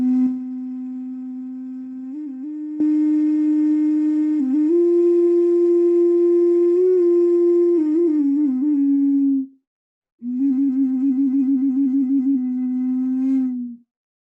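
A clay wind instrument shaped like an armadillo gives sustained, hollow, flute-like tones with slight pitch bends and a fluttering trill near the end, played alone and fairly loud.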